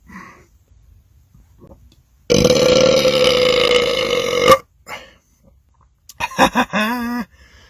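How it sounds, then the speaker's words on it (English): Two big belches follow a drink of Wild Cherry Pepsi: first a long, loud, droning burp, then after a pause a shorter, gurgling one that wavers in pitch. "And now for the belching."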